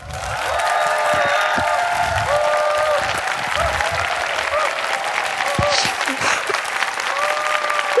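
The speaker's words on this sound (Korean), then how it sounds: "태어나서 이렇게 큰 박수는 처음 받아봤습니다" A talk-concert crowd erupts in loud, sustained applause with cheering and shouts, dense clapping holding steady for the full stretch with some voices rising above it.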